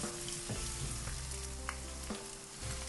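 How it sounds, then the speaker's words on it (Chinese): Minced meat stir-fried with scallion, ginger, light soy sauce, oyster sauce and salt, a dense, loud continuous sizzle up close with a few soft stirring scrapes and no voices. "炒香之后加一勺生抽，一勺蚝油，一小勺盐，然后翻炒均匀，翻炒至肉末上色。"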